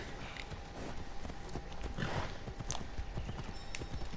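Horse hooves clip-clopping in the video game Assassin's Creed Odyssey, a steady trotting rhythm of close, distinct hoofbeats with a brief whinny and faint game ambience.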